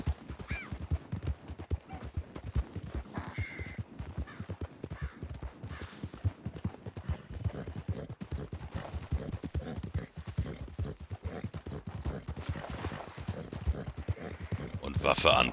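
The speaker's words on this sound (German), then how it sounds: "Wir reiten hier rum." Horse hooves clip-clop steadily while riding around Strawberry in the video game Red Dead Redemption 2, a continuous rhythmic beat running under ongoing talk.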